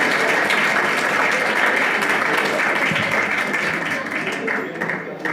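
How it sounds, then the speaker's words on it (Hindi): A coaching-centre farewell party audience claps steadily to welcome a guest, a dense sustained roar of hands that thins slightly toward the end. "ताली बजा करके आप उनका स्वागत करें।"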